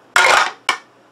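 Dice clatter across a board-game table during Zombicide: Angry Neighbors, one rattling tumble of about a third of a second followed by a short second clack, close and crisp.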